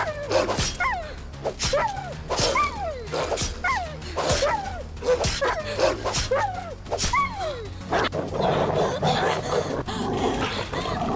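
Wolves in the survival video game Die Young give repeated yelping, whining calls, a run of about eight sharp, close cries with short gaps, then a noisier stretch of scuffling at the end.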